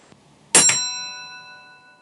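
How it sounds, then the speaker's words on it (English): A railway signal box block bell at Minehead is struck once, a sharp metallic ding that rings on with a long, slowly fading tone in a quiet room, after a faint tap just before. "our bell rings once while the Blue Anchor signalman holds the button in"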